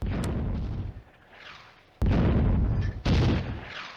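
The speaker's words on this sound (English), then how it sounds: "This Soviet artillery is adjusting." Soviet artillery fire in the Firefight World War II game on the Eastern Front, three sharp heavy booms, each followed by a rolling rumble that fades, loud and close.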